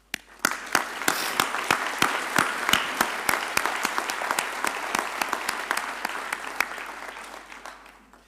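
Graduates at a Rhodes University graduation ceremony are applauded with sharp, distinct claps in a quick, irregular rhythm that gradually thin out and fade, with no voices heard.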